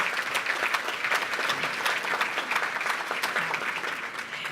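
An audience at a cultural diversity awards event in Abbotsford claps for the event coordinator, dense steady applause filling the room for several seconds with no speech over it.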